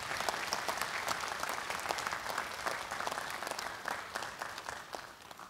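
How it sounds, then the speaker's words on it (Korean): Audience at an award ceremony gives sustained applause, a thick, even patter of many hands clapping from start to finish, fairly close and steady without talk. "여러분 뜨거운 박수 부탁드립니다"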